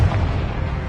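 Confringo spell explosion in a Hogwarts video game, a loud, deep, booming blast that fills the whole moment with heavy low rumble.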